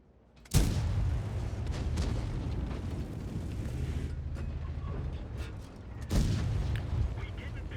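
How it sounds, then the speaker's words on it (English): A tank cannon firing in World of Tanks from a heavy Caernarvon, giving two loud booming blasts roughly five and a half seconds apart, each followed by a rumbling low tail, with a steady engine drone beneath. "that was a good aimed shot"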